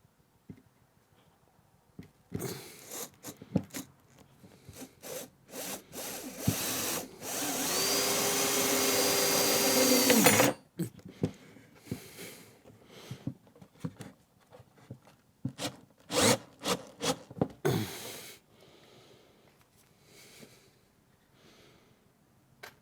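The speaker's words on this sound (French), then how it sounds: "Et maintenant, je vais prendre cette vis, elle est un peu courte, mais on va dire que c'est comme une simulation. Et maintenant, je vais visser." A short screw being driven in by a power screwdriver: scattered handling clicks, then a continuous motor whir for about four seconds, loud and close, followed by more knocks and a brief second burst of whirring.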